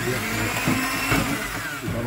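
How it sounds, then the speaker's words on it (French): A blender whirs steadily while mixing crêpe batter of flour, eggs and water, a continuous close, loud motor drone with shifting texture from the churning liquid. "Le mixeur, ça va faire du bruit."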